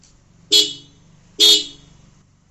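Two loud, blaring honks from the dual horn of an Apache RTR 160 4V special edition motorcycle, about a second apart, bright and brassy like a car horn, over a low idling engine hum.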